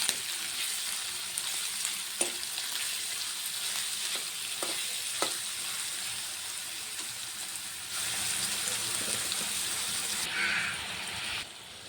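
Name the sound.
onions and green chilies frying and stirred in pan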